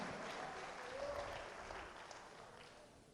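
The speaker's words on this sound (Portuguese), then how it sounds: "Você pode aplaudir o nome do Senhor?" A church congregation applauds, a dense, even wash of many hands clapping that stays steady and slowly fades, heard from a distance at low volume.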